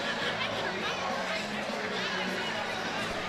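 A crowd at a minor-league hockey game between the Danbury Hat Tricks and Columbus River Dragons roars steadily after a big hit, a dense, loud wash of cheering and chatter throughout.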